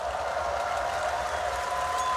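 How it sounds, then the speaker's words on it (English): Arena crowd at a PGL Krakow 2017 Counter-Strike esports showmatch cheering in a steady dense roar, loud and continuous. "Who is the crowd going for? Do we have any James Bardolph fans in the crowd?"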